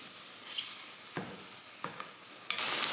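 Garlic added to a pan with meat being cooked for stroganoff, giving a soft background sizzle with a few stirring scrapes, then a loud, steady hiss of frying near the end, close up with no voices.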